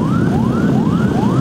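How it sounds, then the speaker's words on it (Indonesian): Ambulance siren wailing in repeated rising sweeps as the vehicle carries a body from a hospital to a funeral home, loud and steady over a dense rumble of traffic and crowd noise. "mobil ambulans yang membawa jenazah"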